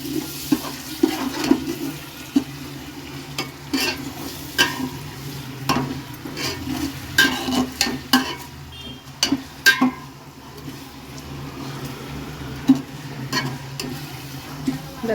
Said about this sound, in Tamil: நாலு தக்காளி போட்டாச்சு ஃப்ரெண்ட்ஸ்.